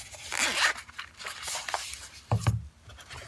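The single zipper of a semi-hard shell carrying case is pulled in a couple of quick rasping strokes, followed by soft handling thumps, close up and fairly quiet.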